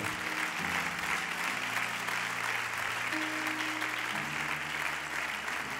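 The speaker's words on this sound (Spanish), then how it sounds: "Démele un fuerte aplauso a mi Señor, por favor." A church congregation applauds for the Lord, a dense, steady wash of clapping throughout, with low sustained tones, probably organ or keyboard, beneath it.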